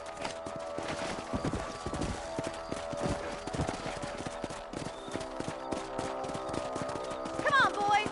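Horse hooves clip-clop at a steady gait in a cowboy video game, close and continuous, with a short whinny near the end.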